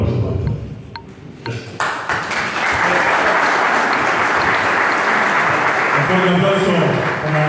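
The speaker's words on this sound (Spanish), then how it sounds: "repetimos el aplauso al Mutual Esportivo Belgrano" Loud, sustained audience applause at a Visa card agreement signing for Mutual Esportivo Belgrano, with a voice speaking early on before the clapping swells and fills the room steadily.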